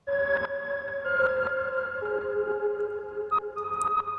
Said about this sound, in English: I then added this crystallizer plugin, which delays and reverses the signal.